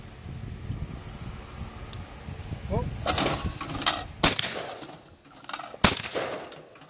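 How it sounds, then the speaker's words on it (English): Several sharp, loud gunshots from a Franke semi-automatic rifle fired outdoors, spaced irregularly over a few seconds, with background noise and a brief birdlike chirp before the shooting starts. "we got Shortbeard shooting with the Franke semi-auto"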